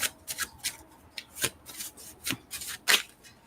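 Tarot cards being shuffled in quick, uneven bursts of riffling and rubbing, close by, with no talking.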